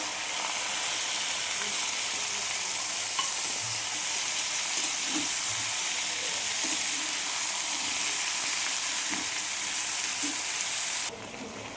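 Turmeric, salt and poppy seeds sauté in a pan with a continuous close sizzle and hiss, broken by occasional soft scraping stirs, steady throughout with no talking.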